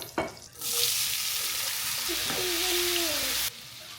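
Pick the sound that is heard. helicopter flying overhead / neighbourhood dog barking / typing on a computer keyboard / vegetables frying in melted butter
vegetables frying in melted butter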